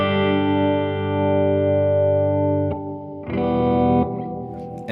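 Guitar played through an Electro-Harmonix Cathedral reverb pedal set to Hall, with a sustained chord ringing into a long, washy tail, then a fresh strum that blooms again into dense reverb.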